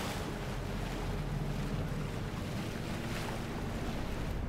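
Steady wash of water waves in the video game Bramble, a continuous broadband surf-like rush with some wind noise, constant and fairly loud throughout with no talking.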